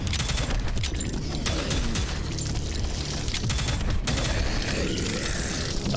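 A weapon in the Prodeus shooter fires in wave mode, loud rapid bursts of crackling blasts and booms that repeat almost continuously over clanking mechanical sounds.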